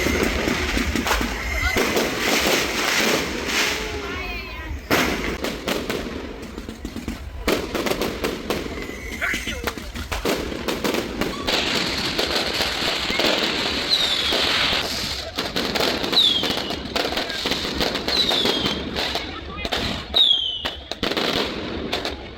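Dense, continuous fireworks and firecrackers bursting at midnight during a Deepavali celebration in Little India, Malaysia, loud rapid crackles and bangs overlapping without pause, with voices talking underneath.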